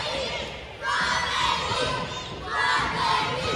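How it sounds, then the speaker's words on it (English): A wrestling crowd at a 2023 match in Commerce, Georgia chants crybaby in rhythmic waves, two swelling roars of many voices with a steady murmur between them, filling the space from a distance. "As you hear the crybaby chants continuing."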